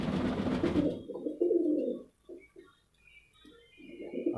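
A Rampuri pigeon gives soft, low cooing calls in short separate phrases, near and fairly quiet, after a brief burst of rustling noise at the start.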